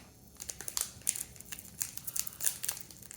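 A trading card pack's foil wrapper is torn open across the top with a quick run of close, crisp crinkles and rips, loud and irregular, with no talking.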